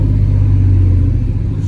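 A cammed 5.3-litre V8 with a new exhaust rumbles loudly and steadily, its deep, lumpy idle throbbing close by without pause and with no talk over it.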